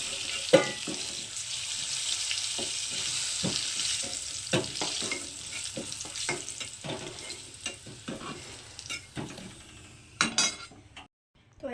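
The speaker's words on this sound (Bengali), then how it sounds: "তো আলুগুলোকে আবার লাল লাল করে ভেজে নেব" Potato pieces fry in oil with a continuous sizzling hiss, while sharp scrapes and clacks of a spatula stirring them break in at irregular moments, and the sound drops away near the end.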